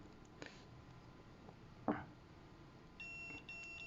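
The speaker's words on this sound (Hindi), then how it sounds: "तो प्रॉपर बीप की साउंड आ रही है" A multimeter on continuity mode beeps as its probes touch a good wire: a short, thin electronic tone appears near the end, faint over a hissy background with a few handling clicks.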